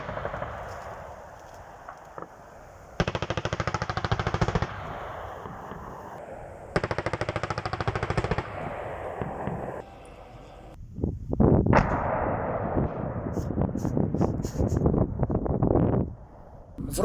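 Automatic gunfire from a live-fire battalion tactical exercise at the Tsabal combined-arms range, Abkhazia: long loud bursts come in spaced volleys, then a denser run of cracking shots near the end, with wind buffeting the microphone.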